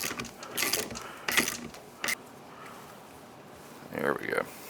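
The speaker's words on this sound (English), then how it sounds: "She reaches in and just pushes the bead down away from the outside of the rim." Tire bead tool working a tire bead off an ATV wheel rim, a few scraping, creaking strains and clunks in bursts with quieter gaps between them.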